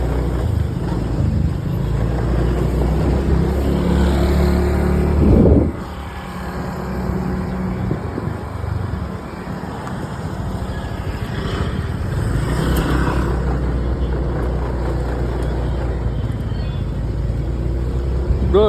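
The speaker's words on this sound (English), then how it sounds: "I drive the motorbike." Motorbike ride through traffic in Thailand, with a steady engine drone and road rumble throughout, a brief loud burst near the middle, and faint background voices.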